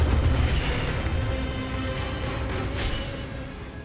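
Incendio fire spell cast in the Hogwarts Legacy video game, a loud booming burst of flame with rumbling low end that fades slowly over a few seconds, with a brief crackling flare near the end.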